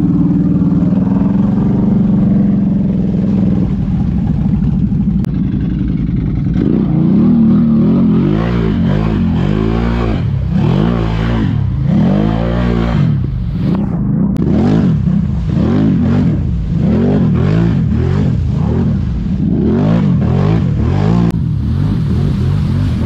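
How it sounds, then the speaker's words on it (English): An ATV engine revs hard and continuously while its wheels spin in deep mud during a climb, the engine note surging and dropping repeatedly through the whole stretch, loud and close. "We'll have to get her just spinning the old wheels."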